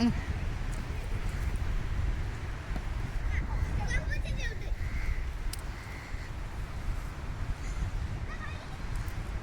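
Crows caw a few times at Azhithala beach, harsh calls cutting through a constant roar of wind and surf, with people talking nearby.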